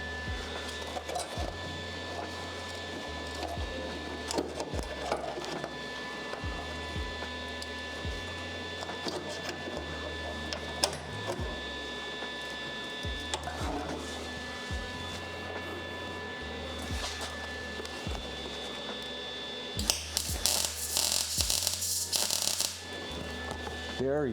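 A sewing machine stitches a Datsun seat in repeated short bursts of rhythmic whirring with pauses between runs, and people talk nearby.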